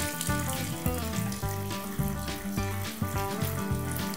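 Water flows at low pressure from a newly installed single-handle faucet with an electric heater, giving a steady, close splashing stream that continues without pause and without talking.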